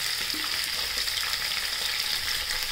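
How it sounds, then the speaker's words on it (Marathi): Chana, urad and moong dal frying with onion in a pan, a steady dense sizzle holding evenly throughout, close and moderately loud. "सगळं परतून घ्यायचं 5-2 मिनिटं।"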